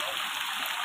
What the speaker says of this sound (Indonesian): Di sini suasananya sangat hujan.